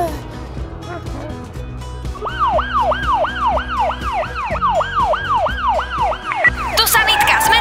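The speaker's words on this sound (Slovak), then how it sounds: "Aha, aj sanitka prichádza." A cartoon ambulance siren wails in a fast, rising-and-falling repeated cycle over busy background music, growing louder as it arrives.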